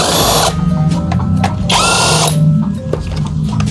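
Power tools whir and ratchet in loud bursts while an automatic fuel-injected scooter is taken apart, with two long high-pitched drill runs separated by shorter clicks and mechanical clatter.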